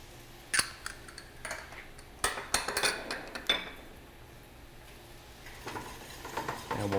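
Whisk strokes clink against a pot as coarse grain mustard, kosher salt and sugar are stirred together, a series of light metallic taps and scrapes, fairly close and quiet.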